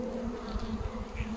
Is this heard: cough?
no